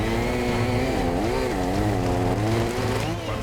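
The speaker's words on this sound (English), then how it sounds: "In this case, we're using a chainsaw." A chainsaw cuts through logs while clearing a highway rollover wreck, its engine holding a steady buzzing drone with pitch dipping and rising as the chain bites into the wood, close and loud throughout.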